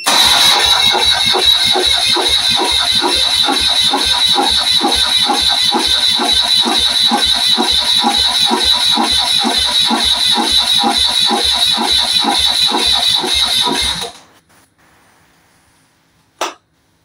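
Car engine starting up after a year of restoration, with a boost to spare the battery: it catches immediately into a loud, rapid, steady chugging that runs for about fourteen seconds, then cuts off, followed by a single short knock.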